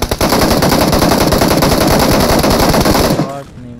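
Automatic weapon fire in the mobile battle royale game PUBG Mobile, a loud, rapid, unbroken burst of shots lasting about three seconds before cutting off into quieter background sound.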